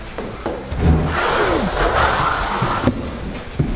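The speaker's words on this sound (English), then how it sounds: "Now we're just going to pass the Accu-Just right over top" A Can-Am Accu-Just corner finisher is drawn along mudded drywall tape in a corner, giving a loud rubbing scrape that runs for a couple of seconds between soft knocks and handling sounds.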